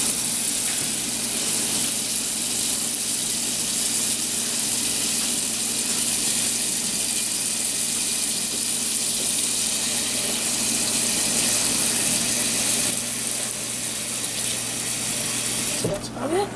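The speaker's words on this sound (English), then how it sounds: "now we're going to fill this thing up with water" Water gushes steadily from a kitchen tap into a pot, a continuous close rushing hiss that holds for the whole stretch before cutting off at the end.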